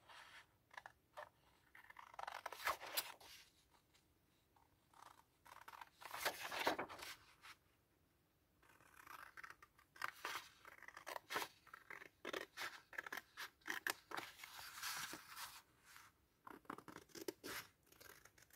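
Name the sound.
scissors cutting a paper tag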